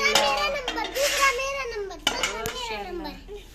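Metal pots and a spoon clink and scrape close by as a child picks them up at a family meal of Punjabi jaggery rice, with several short sharp clatters mixed among children's voices.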